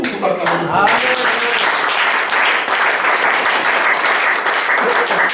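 A church congregation applauding and cheering together, dense sustained clapping filling the room loudly and evenly, with voices mixed into the crowd noise.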